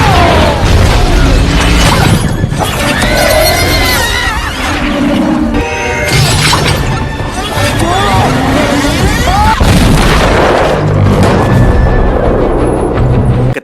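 A blast from an alien bracelet weapon smashes a wagon in a cowboys-and-aliens film scene, with heavy booms, bursts and crashing debris mixed with horses whinnying and shouting voices across a loud, chaotic action sequence.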